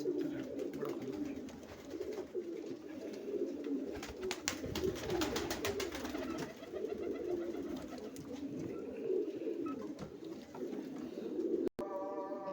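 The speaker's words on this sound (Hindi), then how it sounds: "लाल बादशाह कबूतर है, बड़ा खानदानी।" Lal Badshah pigeons, a pedigree breed, coo in soft low repeated bursts throughout, close and steady, with faint background noise and no talk.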